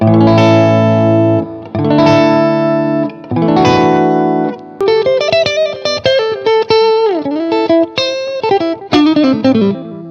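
A Gibson electric guitar on its clean tone through the rear single-coil pickup: three strummed chords ring out, then a run of quicker, bright single picked notes with a bend, played alone and up close.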